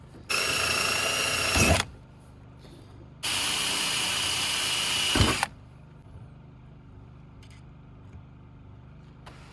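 A power drill bores holes through sheet metal on a 6.9 IDI diesel Ford F250, in two loud, steady whining bursts of about one and a half and two seconds, with a quiet pause between them.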